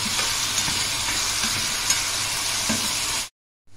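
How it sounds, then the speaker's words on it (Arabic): Heart and kidney pieces sizzle steadily in a hot pan for Alexandrian-style liver, a dense continuous frying hiss with faint stirring knocks, close and loud, no talk, cutting off abruptly near the end. "نزلت بقى بالقلب والكلوه الاول"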